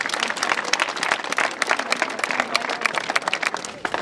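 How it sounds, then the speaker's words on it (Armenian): Steady crowd applause fills the room at a military award ceremony as an An-17 gunner is honored, dense overlapping claps holding at a fairly even level throughout. "արժանի ես այս ծափահարություններին"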